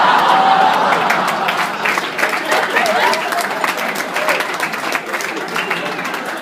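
A stand-up comedy audience breaks into loud, close applause with some cheering, and the clapping thins gradually toward the end.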